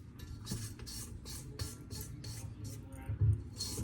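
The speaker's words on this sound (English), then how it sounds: "scrape down my sides because there's a lot of sugar getting stuck on the sides" Spatula scraping stuck sugar down the sides of a mixing bowl while baking Food for the Gods, a rhythmic series of about eight short rasping strokes, close and moderately loud, with no talk.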